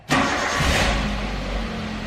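A Toyota Avanza's engine starts after a service of its engine management system, a short crank catching into a steady idle hum right up close.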